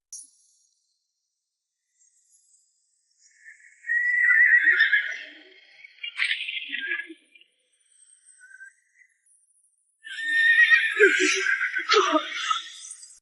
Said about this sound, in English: Young master, the horses are already foaming at the mouth. They're about to collapse.